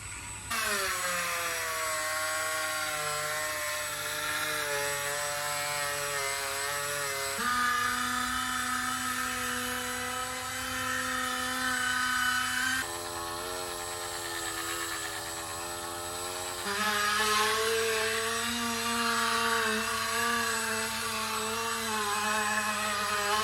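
A polishing wheel buffing a stainless steel car part hums with a steady motor whine whose pitch shifts as the speed changes, loud and continuous throughout.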